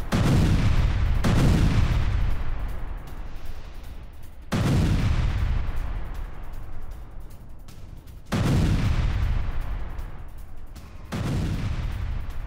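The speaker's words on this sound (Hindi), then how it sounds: "इस हमले में रूसी T-72 टैंक पूरी तरह तबाह हो गया। अमेरिकी ATGM जेवलिन से हमले को अंजाम दिया गया।" Javelin anti-tank missile strikes on a Russian T-72 tank in the Russia-Ukraine war, four heavy booming blasts spaced a few seconds apart, each a loud broadband burst that decays slowly into rumble.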